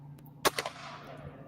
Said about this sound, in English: Gunshots. Surely gunshots aimed at me.